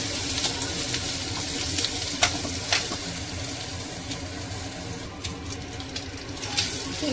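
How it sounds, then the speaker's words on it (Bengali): Onions frying in a pan with egg added, a steady close sizzle and crackle with occasional louder spits and pops throughout, and no voices. "এবারে এদিকে পেঁয়াজ ভেজে নিচ্ছি"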